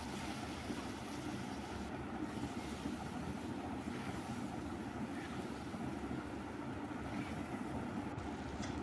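Potatoes seasoned with salt and turmeric fry in a pan for a goat meat curry, producing a dense, steady sizzling hiss that holds at an even level throughout.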